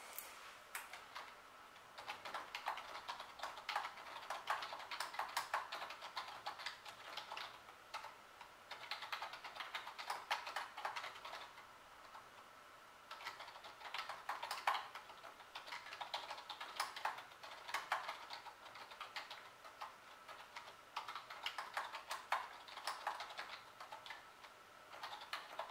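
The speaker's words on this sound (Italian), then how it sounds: "voglio farvi sentire un po' il feedback e la pressione di questi tasti" Steady typing on a Logitech K400 Plus membrane keyboard, soft rapid key presses in continuous bursts with brief pauses, close and alone with no talk.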